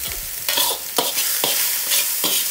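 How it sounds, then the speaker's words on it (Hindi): Chicken fried rice with sauce being stir-fried in a pan: repeated loud scraping, tossing strokes roughly every half second over a steady sizzle, close up with no talking. "और अच्छे से मिक्स"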